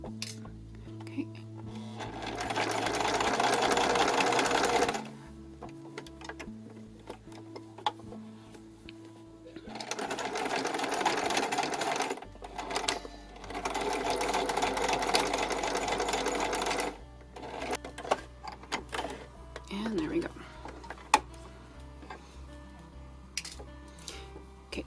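Serger sewing machine stitching a fabric safety mask, running in two loud bursts of rapid whirring and clatter of several seconds each, separated by quieter pauses with handling clicks and a low hum.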